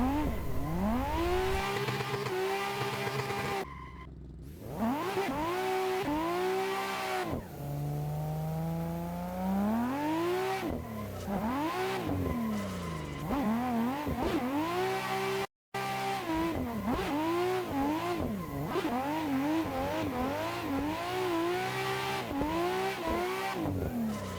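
Nissan 180SX race car in the Assetto Corsa racing game, its engine revving loudly and continuously through repeated upshifts and downshifts on a track, with a couple of brief cuts and no talk.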